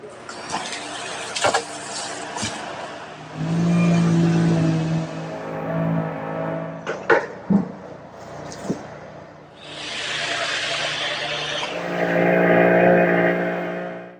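A tractor engine runs during tree felling near a cabin, a steady low drone that swells and fades across the clip, broken by a few sharp knocks and cracks.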